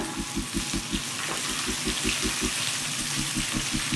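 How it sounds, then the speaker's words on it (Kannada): Sliced onions frying in a pan for coconut rice, giving a steady, close crackling sizzle that stays even throughout, with a rhythmic low thumping underneath. "ಇವಾಗ ಈರುಳ್ಳಿ ಹಾಕೋತಾ ಇದ್ದೀನಿ"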